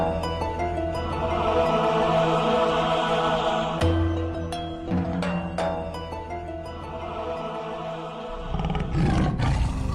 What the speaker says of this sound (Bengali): কিন্তু ডাকছে তো বাঘের মতো।